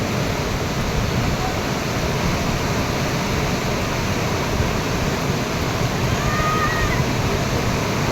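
Floodwater on the Pamba river rushes past in a steady, loud, broadband roar with no pauses, like close-up torrent noise, and no voices over it.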